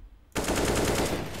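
Rapid automatic gunfire sprays loudly and continuously after a short quiet start, from a weapon in a shooter video game during a match with raised mouse sensitivity.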